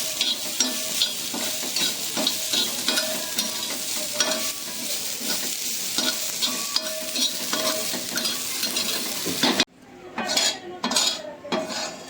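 Dried coconut roasting in a pan with a spatula scraping and stirring repeatedly, a steady dry crackle with metallic clinks, then a brief pause before a few more scrapes.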